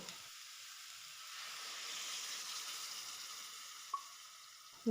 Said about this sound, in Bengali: দিয়ে কিছুক্ষণ আমি টমেটো আলু আর বরবটি কষিয়ে নিব মিনিট পাঁচেক মতো